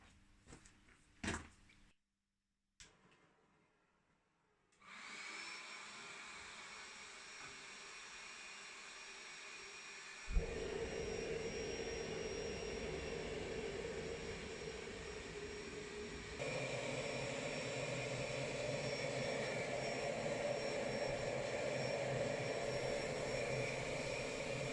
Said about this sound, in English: Now let's heat that forge.